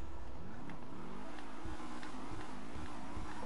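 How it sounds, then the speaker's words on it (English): A car engine revs in GTA 5 Online, building into several rising accelerating pulls with harmonics climbing and dropping, steady and close with no talking. "I'm gonna rev it."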